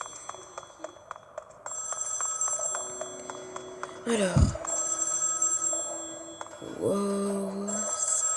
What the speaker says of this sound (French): je réponds au téléphone